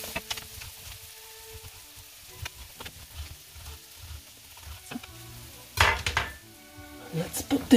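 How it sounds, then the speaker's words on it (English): Duroc pork, a fatty cut, going into a pan for Bicol Express, with scattered utensil clinks and a brief burst of sizzling and clatter near the end in a quiet kitchen. "Let's put the meat inside the pan."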